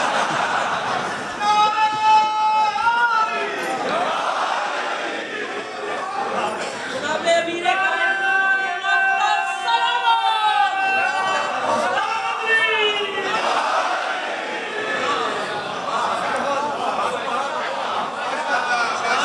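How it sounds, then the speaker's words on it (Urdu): An audience at a majlis chants religious slogans together, many voices rising and falling in loud, overlapping waves that sustain for nearly twenty seconds with barely a pause. "اب اور دو چار بھی نعرے بھیج لیجئے"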